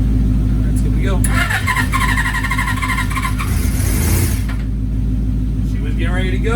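A 1981 Suzuki GS550 motorcycle engine with separate carburetors runs loud and close, a rough, steady idle with some revving, while a person talks over it.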